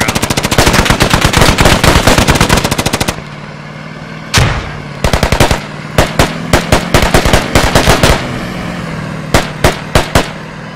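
Humvee-mounted machine gun in Squad hammering out a long, loud, steady burst up close, then a pause and several shorter volleys and scattered single shots.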